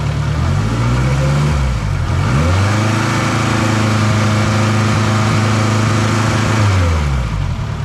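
A turbocharged K20-engined EF sedan revs hard in gear, its pitch climbing and holding high for several seconds before dropping back, loud and close with a thin drivetrain whine.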